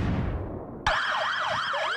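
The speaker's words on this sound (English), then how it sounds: "As the siren sounds," After a moment of muffled background noise, a wailing emergency siren suddenly starts nearby, loud and rising and falling in a rapid yelp.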